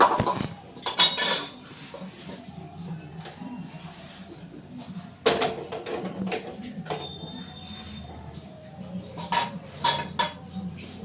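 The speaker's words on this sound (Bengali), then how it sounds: "এবার আমি একটা অন্য কড়াই বসিয়ে নেব" A metal kadai is set down on the stove with a couple of loud clanks, followed by lighter metallic knocks and clinks of cookware against a quiet kitchen background.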